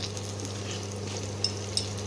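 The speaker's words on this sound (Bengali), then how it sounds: "মশলাটা ভাজা ভাজা হয়ে এসছে।" A spice masala fries in a pan while being prepared for reshmi chicken, giving a steady close sizzle with a couple of sharp crackles near the end.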